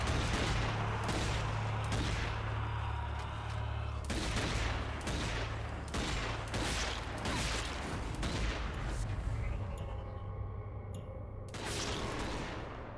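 Gunfire from a pistol and other weapons while fighting a zombie horde in Zombie Army 4: Dead War, with repeated sharp shots over a dense, continuous battle din that thins out near the end.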